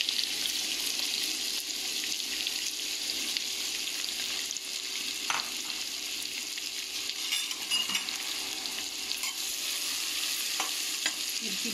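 Onion and curry leaves frying in oil for egg biryani, a loud continuous sizzle broken by soft stirring scrapes, heard alone without voices.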